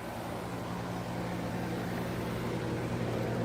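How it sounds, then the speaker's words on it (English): A home air conditioner running with a steady low hum and broadband whoosh, continuous and fairly loud without any pauses or voices. "My air conditioner kicked on."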